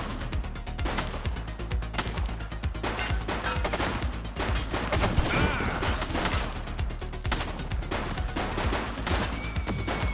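Dense gunfire crackles without pause in the police video game The Precinct, rapid overlapping shots and bursts hammering loudly through the whole stretch.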